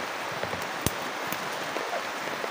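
Steady rain falls outdoors, a continuous close hiss with occasional louder drops and splashes on nearby surfaces, no talk heard.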